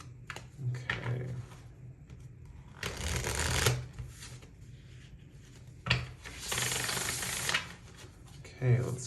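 Tarot cards being shuffled in bursts of riffling and rubbing, with quieter gaps between, close up and fairly soft.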